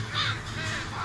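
Harsh crow-like cawing from a bird in the VR horror game Face Your Fears, in its Foul Play bird scenario, loud and close over a low rumbling backdrop, with no talking.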